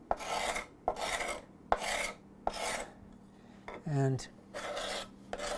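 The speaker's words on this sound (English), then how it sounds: "scraper biting in quite aggressively" A cabinet scraper rasps across the wood of a clamped song stick in long, even strokes repeated about once a second, close and fairly loud, with a single short spoken word near the end.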